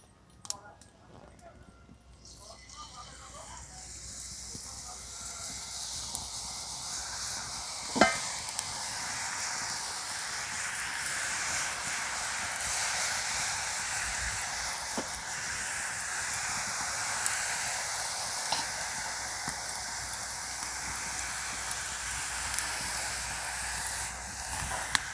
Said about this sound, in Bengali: এবার কিন্তু সীতাভোগ মিষ্টিগুলো ভেজে নেব।